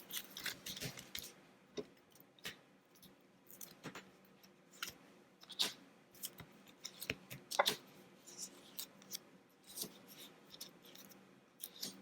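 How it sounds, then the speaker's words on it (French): Tarot cards being laid out one by one on a table, soft scattered taps and slides of card stock, faint and close with quiet pauses between placements. "Donc déjà, je vais mettre 4 cartes. Après, je vais les recouvrir pour venir recouvrir les messages."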